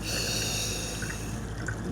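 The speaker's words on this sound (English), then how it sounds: "When he sniffs, he really sniffs." A dog sniffs and snorts right up close, producing continuous loud, breathy snuffling that fills the whole moment.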